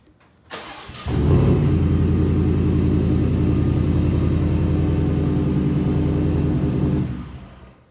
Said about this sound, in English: So again, just a very, very nice exhaust.